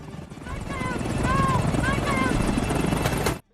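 A helicopter flying away, its rotor a steady loud thrum that holds for about three seconds before cutting off abruptly, with a voice talking over it.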